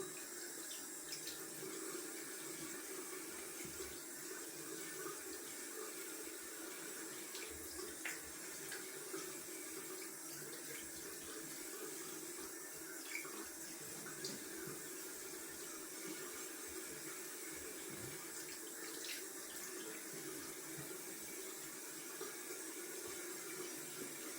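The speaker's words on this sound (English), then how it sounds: "gonna go down for cold water rinse" A tap runs steadily into a sink for a cold water rinse during wet shaving, giving a continuous, fairly faint splash and hiss that lasts throughout without talk.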